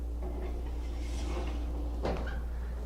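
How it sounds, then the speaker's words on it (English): An oven door clunks shut once with a short thud after a loaf of beer bread goes in, heard fairly close over a constant low kitchen hum with no talking. "Now straight into the oven"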